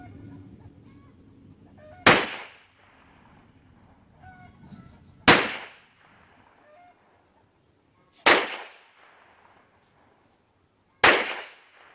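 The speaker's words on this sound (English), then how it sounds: "we'll just fire a couple of shots at about 12 yards" Four loud, sharp gunshots fired at a target about 12 yards away during a chronograph session testing different loads, spaced roughly three seconds apart, each a sudden crack decaying quickly into near quiet.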